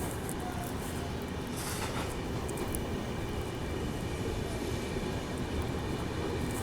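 Passenger express train pulling away again after a short halt on the main line, a steady low rumble and rolling clatter heard from inside the carriage, continuous and moderately loud.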